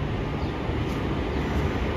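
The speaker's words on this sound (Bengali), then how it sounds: "দেখতে পাচ্ছ ট্রেনটা অলরেডি আসতে শুরু করেছে" Passenger train arriving at Jangipur railway station, a loud, steady rumbling roar of the approaching train filling the whole stretch with no talk.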